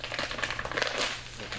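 Tearing open an inner plastic bag at its tear notch, packaging for a self-heating emergency blanket: a brief, close burst of crinkling and ripping plastic with rapid small crackles, without talk.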